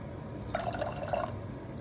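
A splash of juice poured into barbecue sauce for smoked chicken wings gives a soft, brief liquid trickle and dripping, faint and close, with no talking over it.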